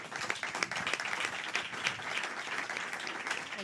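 A comedy and improv show audience breaks into applause, a dense and even patter of many hands clapping continuously at moderate loudness with no speech over it.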